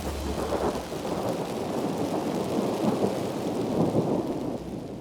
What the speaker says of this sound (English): tropical rain dumps down on them